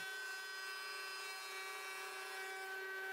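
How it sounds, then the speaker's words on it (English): A router in a router table fitted with a flush trim bit spins at a steady high-pitched whine while trimming an oversized wooden cabinet panel, a constant tonal hum that holds evenly throughout. "I used a flush trim bit in my router table to trim it down to size."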